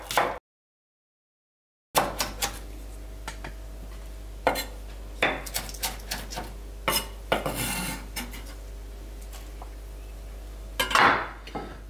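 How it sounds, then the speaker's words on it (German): Knife chopping spring onions thinly on a cutting board while preparing egg salad, a series of sharp, close taps and scrapes in irregular bursts, no talking. "Frühlingszwiebeln schneide ich auch mal klein dünn."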